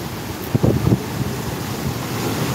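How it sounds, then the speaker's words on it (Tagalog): Storm surge waves at Nato Port, Sagñay, Camarines Sur, surging over the coastal highway, a rough rush of surf and strong wind buffeting the microphone, with a brief heavier crash early on. "sumasampa na sa highway ang alon dito"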